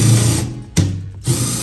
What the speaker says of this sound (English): I find the impact gun with the drill bit works a little better than just the regular drill bit